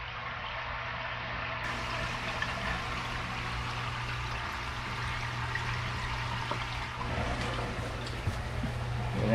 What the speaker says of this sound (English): So the water dropping down.